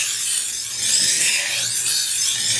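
A kitchen knife being sharpened on a whetstone, a continuous raspy rubbing stroke with slight swells in intensity, close and alone without speech.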